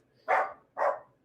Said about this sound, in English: I assume you guys can hear the dog.